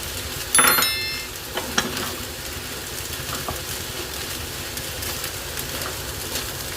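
Fried rice with chicken and egg sizzles and fries steadily in a hot pan on full flame, with a sharp metallic clang and a few scraping stirs early on, no talking.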